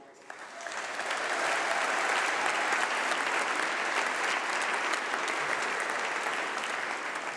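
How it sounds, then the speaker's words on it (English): Applause for graduating PhD students at a university winter congregation ceremony, a large hall audience breaking into sustained, even clapping that swells quickly and holds steady, fairly distant and reverberant. "So a round of applause for the doctors."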